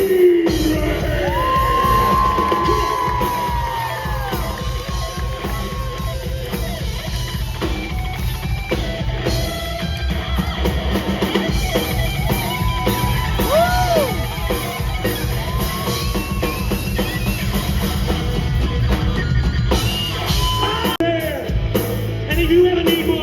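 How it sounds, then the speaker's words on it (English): Audience at a SeaWorld summer show cheering, whooping and clapping at a fairly steady loud level throughout, with music and a presenter's voice mixed in underneath. "Round of applause for Abraham!"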